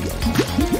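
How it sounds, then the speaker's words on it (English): Warm water pours and splashes while doll hair is rinsed, a close gurgling, bubbling stream with liquid glugs. "And then rinse it off with warm water."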